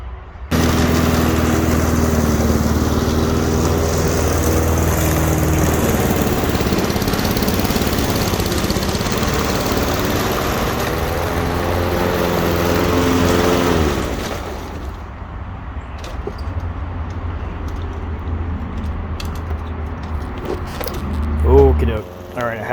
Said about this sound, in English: This is why I call this a trim mower.